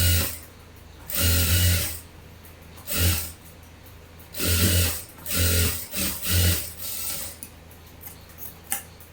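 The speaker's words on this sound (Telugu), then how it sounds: "ఇప్పుడు ఈ మెయిన్ క్లాత్ పైన లైనింగ్ని పెట్టి ఒక సైడ్ మడత పెట్టి కుట్టుకోవాలి" A sewing machine stitches lining onto blouse cloth in several loud, close bursts of rapid needle chatter, separated by short pauses and quiet handling of the fabric.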